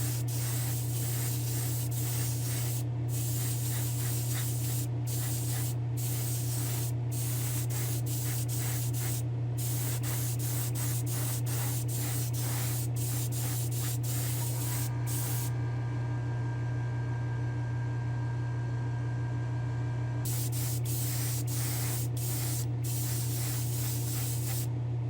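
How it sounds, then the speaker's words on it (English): Clear coat is sprayed from a spray gun onto a hot rod inside a paint booth, a close, steady hiss that repeatedly cuts off and restarts in short bursts over a constant low booth hum. "I'm going to head to the booth and we're going to give this a proper clear coat."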